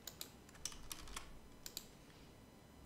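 Light clicking of individual computer keys being pressed in short, scattered taps over a steady background hiss, close and fairly quiet with no talking.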